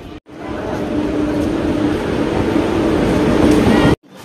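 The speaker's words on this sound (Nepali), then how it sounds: "भर्खर आयो ट्रेन चाहिँ।" A loud, steady rumble of a train pulling into Dalgaon station, with a continuous low drone and rattling that holds for several seconds before cutting off abruptly.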